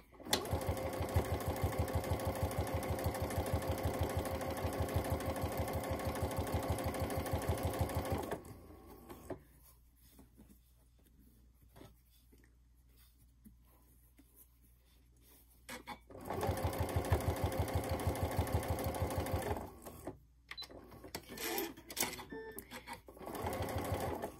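Sewing machine stitching rickrack trim onto a small paper-pieced fabric heart, running in steady rapid bursts near the mic, stopping for a long pause in the middle before resuming in shorter runs.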